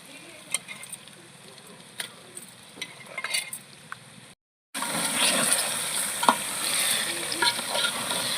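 Quiet scraping and clinks of a spoon in a pan, a short silence, then marinated chicken frying with a loud, constant sizzle as it is stirred.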